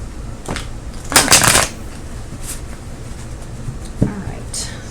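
A deck of playing cards is shuffled in a quick riffle burst, followed later by a softer second shuffle, with faint background noise.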